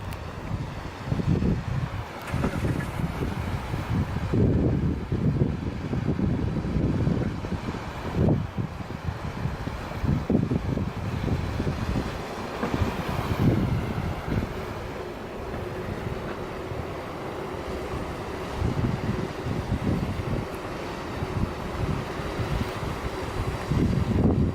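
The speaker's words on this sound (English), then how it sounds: "Soothing ocean noises." Ocean waves and wind along the coast on the 17 Mile Drive, a loud, continuous roar with repeated surging swells and heavy wind buffeting the microphone.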